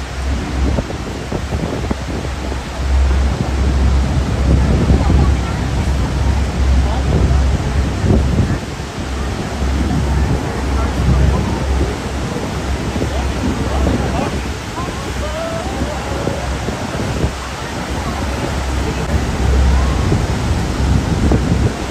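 Niagara Falls in Canada roars as a steady, loud broadband rush of falling water and drifting spray, continuous and close, with crowd noise mixed in.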